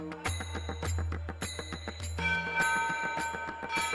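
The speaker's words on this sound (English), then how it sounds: "joining hands in ringing the bell of world peace." A bright world peace bell rings repeatedly in a steady rhythm at the G20 Interfaith Summit, World Peace Dome, clear metallic strikes with ringing overtones, joined midway by a second higher-pitched chime.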